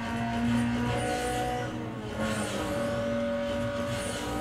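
A V6 race car in Need for Speed Underground 2 drives close ahead, its engine droning with rising and falling revs, brief tire squeal and passing cars in a continuous racing mix.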